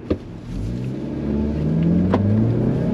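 A close Jetour T2 Traveler SUV's 2.0-litre turbocharged engine revs up and accelerates, its turbocharged growl rising steadily in pitch and loudness, with a brief knock at the start.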